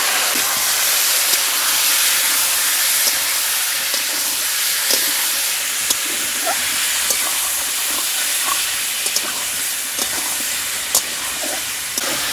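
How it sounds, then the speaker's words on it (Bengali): Chicken meat sizzles in hot oil in a wok, a dense continuous hiss with scattered pops and crackles, loud and close throughout with no talking. "তেলের মধ্যে মাংসগুলো ছেড়ে দিচ্ছে।"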